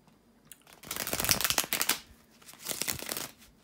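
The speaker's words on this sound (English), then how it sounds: "bear with me a second, guys, to shuffle the tarot cards" Tarot cards being shuffled by hand, a dense papery riffling in two bursts with a short pause between, close and fairly soft with no talking.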